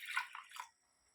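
A little water poured over almond gum set to soak, a quiet, short splash and trickle lasting under a second before falling silent.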